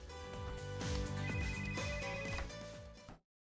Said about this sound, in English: I think my phone just buzzed.